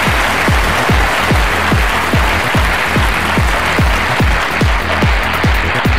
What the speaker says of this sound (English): let's give Miss Asia 2017 the loudest, most loving round of applause